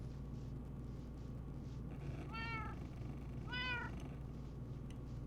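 A cat gives two clear, drawn-out meows a second apart over a steady low background hum, fairly close and moderately loud.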